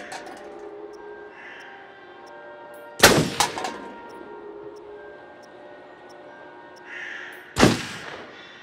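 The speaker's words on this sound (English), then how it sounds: "Wow, nice shooting, Tex." Two loud gunshot blasts from the video game Until Dawn, one sharp report with a quick echo near three seconds and a second near the end, over a low ambient game background with faint tonal hum.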